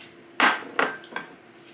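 A small spatula scrapes honey garlic chicken marinade out of a container into a bag, three distinct knocks and scrapes in quick succession, close and fairly loud, with quiet pauses between.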